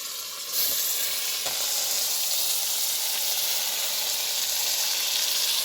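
Minced mutton keema hits browned onions in a hot pan for keema curry and sets off a sudden loud sizzle. The hiss stays bright and steady, with a few soft stirring knocks.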